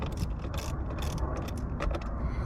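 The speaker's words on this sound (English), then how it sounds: "You're going to loosen the positive." A ratchet loosens the positive battery terminal nut on a Porsche Cayenne, giving a steady run of quick metallic clicks close by in a confined engine-bay space, with no talking.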